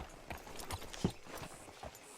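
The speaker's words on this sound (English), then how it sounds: "Hitch your horse up here." Horse hooves clip-clop in Red Dead Redemption 2, a handful of uneven, moderately close steps on the ground with one sharper, louder hit midway, heard alone without talk.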